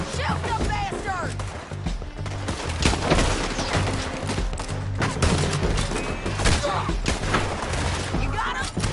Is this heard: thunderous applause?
no